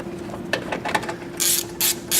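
Quick bursts of ratchet clicking as a ratchet tightens the air intake clamp on a 2010-2014 Mustang GT500, with several short close-up runs of rapid clicks.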